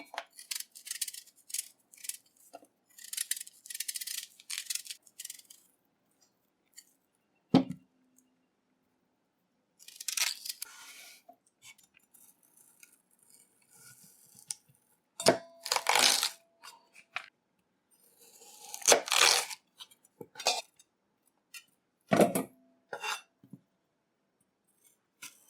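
Eddos being peeled and cut by hand, heard as close, crisp scraping and crunching strokes in irregular bursts separated by quiet pauses, with no talking.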